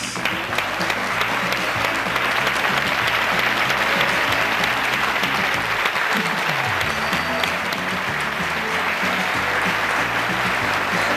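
Studio audience on a 1993 Telemadrid couples show clapping for the contestant pair, a loud continuous round of applause lasting the full stretch, with a voice and music faintly beneath.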